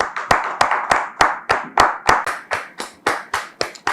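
A church evening audience welcomes visiting guests with steady rhythmic clapping in unison, about a dozen crisp, evenly spaced claps and no talk.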